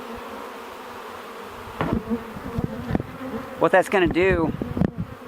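Honeybees buzzing at an opened beehive, a low steady hum that swells into louder, close, wavering buzzing of several bees near the microphone, while someone speaks briefly over it.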